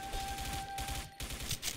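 Rapid M4 rifle fire in the shooter game XSHOT, a dense run of overlapping shots packed into under two seconds, loud and close with no pauses.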